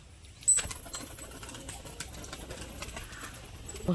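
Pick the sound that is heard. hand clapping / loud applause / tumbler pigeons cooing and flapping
tumbler pigeons cooing and flapping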